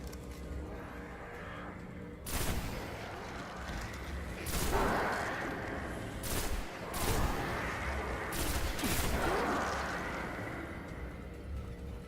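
Pulse rifle bursts in Destiny, several sharp volleys of shots cracking out at intervals over a steady background rumble, each burst a quick cluster of rapid reports.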